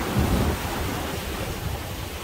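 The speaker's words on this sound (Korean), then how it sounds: "오늘도 파도가 높습니다." High sea waves at a harbor: a rough, continuous roar of surf mixed with gusty wind buffeting, loudest at the start, with no voices.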